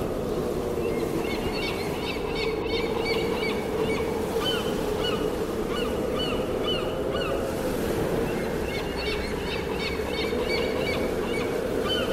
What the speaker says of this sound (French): les mouettes aux nues jettent leurs cris sonores